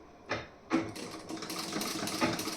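A sewing machine stitches a folded blouse piece in short bursts, rising into a steady whirring run, close and fairly quiet, with no talking.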